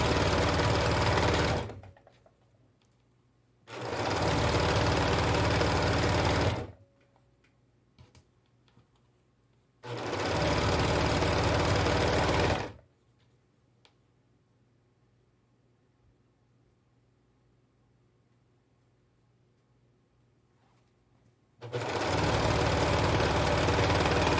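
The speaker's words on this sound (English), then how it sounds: "See how it serges it? Trims it off and serges it all together." A serger sewing machine trims and overlocks the selvage edges of pillowcase fabric in three loud, steady whirring bursts of a few seconds each, separated by quiet pauses with only faint handling noises.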